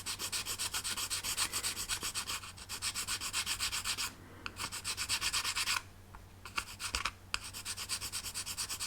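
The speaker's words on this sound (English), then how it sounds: "So I'm going to use a file to start with." A hand file rasps steadily back and forth across model filler on a 22-inch Eagle 1 spacecraft kit, a close, continuous scraping with brief pauses between strokes.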